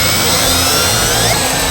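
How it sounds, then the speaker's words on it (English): A power drill with a 1/8 inch bit bores a pilot hole for a bracket on a truck, a loud, steady whine close by with no pauses and no talking. "1/8 inch drill bit to drill us a pilot hole for our bottom hole"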